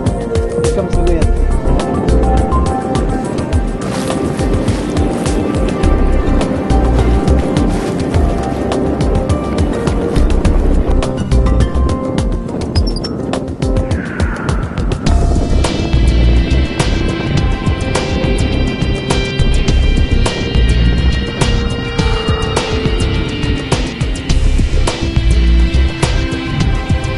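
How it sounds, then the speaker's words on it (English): Wind gusts buffet a sailboat with reefed sails on Ghost Lake on a snowy November day, a loud continuous roar and flutter close to the microphone, with a voice speaking over it. "Here comes the wind."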